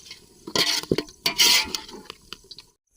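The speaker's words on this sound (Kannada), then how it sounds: "ಇವಾಗ ಶುಂಠಿ ಬೆಳ್ಳುಳ್ಳಿ ಪೇಸ್ಟ್ ಹಾಕೋಬೇಕು. ನೀಟಾಗಿ ಮಿಕ್ಸ್ ಮಾಡ್ಕೋಬೇಕು." Ginger garlic paste being stirred into onions frying in a pan for soya biryani, a few close scraping and clinking spoon strokes against the pan with soft squishy sizzle, brief and uneven, with no voices.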